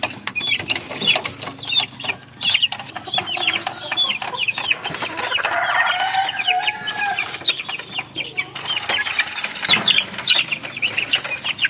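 Three roosters and a white hen cluck and call continuously close by, with wings flapping now and then in a busy backyard.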